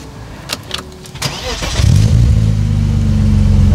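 BMW E36 engine cranking and catching after a few clicks and knocks, then settling into a loud, steady, deep idle and light rev close to the microphone.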